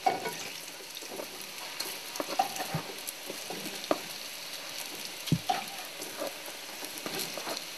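Mutton-filled pastries fry in a pan with a busy close crackle of oil, punctuated by sharp pops and occasional scrapes of stirring, no talk over it.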